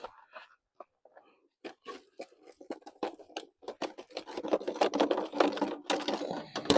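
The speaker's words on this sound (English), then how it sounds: "I'm going to dump these coals" Charcoal briquettes are dumped out for a campfire, beginning with a few sparse clinks and then building into a dense, close run of rattling, clattering knocks as the lumps tumble and settle.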